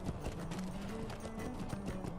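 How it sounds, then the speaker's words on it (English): A horse galloping up in the video game Lord of the Rings Online: quick rhythmic hoofbeats clatter steadily over a faint background, fairly soft and continuous throughout the short stretch. "I'm glad that horse ran up and suggested it."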